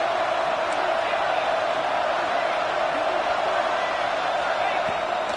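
A packed football stadium crowd roars in a steady, dense wall of cheering on a big third down, loud and continuous throughout, with a commentator's voice partly audible beneath.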